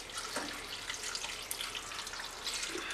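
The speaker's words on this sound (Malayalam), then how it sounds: "അതിൽ 2/2 പാൽ ഒഴിച്ചു കൊടുത്തിട്ട് നമുക്കിതൊന്ന് വേവിച്ചെടുക്കാം." Thin coconut milk is poured into a cooking pot for a Kerala olan with ash gourd and red cowpeas, making a steady, close, continuous liquid splash and trickle.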